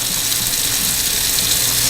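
No-rinse sanitizer dumped into a bucket of water while preparing homebrew beer equipment, a loud steady gush of pouring water close up, with no talking.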